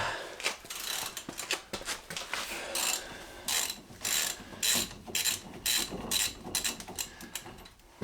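Ratcheting clicks from a socket wrench working a brake caliper bolt loose on a Chrysler Grand Voyager, a quick run of close metallic clicks in bursts of strokes, loud and without talk.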